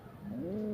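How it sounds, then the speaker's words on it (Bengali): A Lily Matraj pigeon gives a single short, soft coo that rises and then holds, heard close by and alone. "এই যে একটি লিলি ম্যাটরাজ পায়রা"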